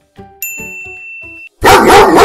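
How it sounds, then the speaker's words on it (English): A dog barks loudly and close in a dense burst near the end, after several short spoken syllables and a bright chime. "Dog."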